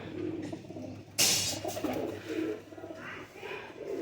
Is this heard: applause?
no